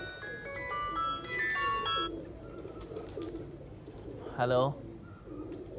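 Racing pigeons settle on a loft in Sialkot during a one-day Punjab championship. A short, soft coo rises between phone-like electronic tones, while someone talks on a call.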